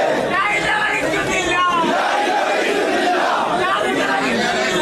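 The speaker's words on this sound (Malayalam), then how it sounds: "ആൾക്കൂട്ടം ചുറ്റും നിന്ന് മുദ്രാവാക്യം വിളിക്കുന്നത്" A large crowd shouts political slogans together in rising, chant-like calls at the funeral of VS, loud and continuous, with many voices blending into a dense roar.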